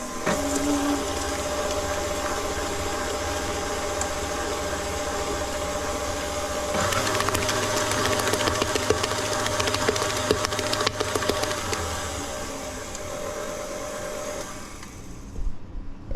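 An electric mixer beats four eggs for Jewish apple cake batter in a continuous, loud motor whine that shifts pitch midway, runs about sixteen seconds and cuts off near the end.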